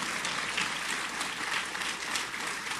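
An audience at a legislative committee gathering claps steadily and densely, a brief sustained burst of applause with no talking over it.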